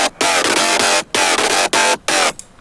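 A bright, buzzy electro house FM saw lead synth built in Serum plays choppy staccato notes, about five bursts separated by short gaps, loud and up front with no reverb.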